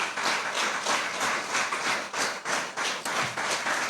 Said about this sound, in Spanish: Dale una ofrenda de palmas al Rey.